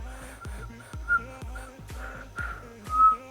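Thin, airy notes whistled while breathing in repeat in short bursts, each paired with an audible intake of breath, fairly close and with no talking.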